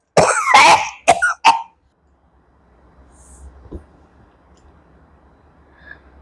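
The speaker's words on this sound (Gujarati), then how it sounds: "ઉધરસ આવી એટલે" A woman gives a short burst of about four close, loud coughs in quick succession, followed by quiet room tone and faint background noise.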